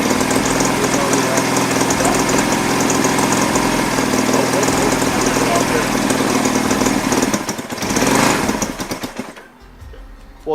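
A vintage 1975 Honda CB200T twin motorcycle engine runs loud and close with a steady, rough idle and knocking chatter, then briefly dips and surges before cutting out near the end, with people talking over it.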